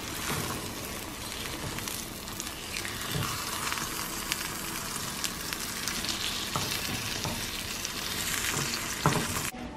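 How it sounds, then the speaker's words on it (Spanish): An egg fries in a pan, giving a steady, close crackling sizzle with occasional sharper pops throughout. "Ya les estoy haciendo el huevito."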